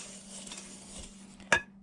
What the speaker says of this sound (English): Just give that a little quick whisk.